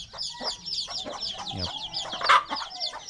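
An old bantam hen clucks in short, soft bursts over a busy background of other chickens, with a brief louder squawk near the end.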